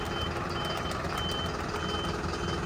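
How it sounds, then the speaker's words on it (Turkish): A truck's reversing alarm beeps steadily and repeatedly over a constant engine rumble, heard at moderate distance outdoors. "Kamyonun biri gidiyor."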